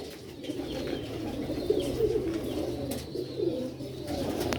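Sialkoti rocket silver pigeons coo in soft, low, repeated calls over a steady background murmur, fairly close.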